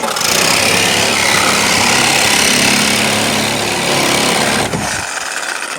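A saber saw blade cutting a piece out, loud and continuous buzzing rasp that holds steady for nearly five seconds and then cuts off abruptly.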